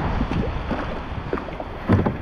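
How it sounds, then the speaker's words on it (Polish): Wind on a river during a kayak trip on the Obra: a steady broadband rush of wind buffeting the microphone, with faint water splashes and gusts rising toward the end, close and continuous. "Wiatr się zerwał."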